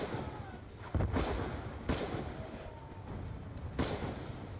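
Sniper rifle shots from an XPR in the Black Ops 2 video game, three sharp loud reports spaced about a second apart over a steady game ambience.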